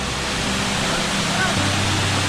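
Cambugahay Falls on Siquijor pours in a loud, constant rushing roar, a dense wall of falling water close by that fills the whole scene without pause.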